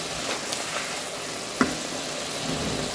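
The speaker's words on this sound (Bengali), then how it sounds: "এটাকে আমরা প্রথমে একটু কষিয়ে নেব।" Beef seasoned with turmeric, chili, coriander and salt sautés in a pan for a village-style beef and potato curry, a steady close sizzle with a sharp clack as it is stirred, no voices.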